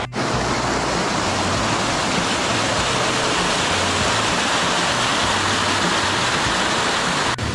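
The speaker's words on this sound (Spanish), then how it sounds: "llegamos a una de las cascadas que está aquí ubicada en el Cacao. Fíjense, estamos arriba de ella" Steady, loud roar of a waterfall at El Cacao near Barinitas, Venezuela, heard from above the falls, a dense unbroken rush of falling water filling the whole clip with no voices.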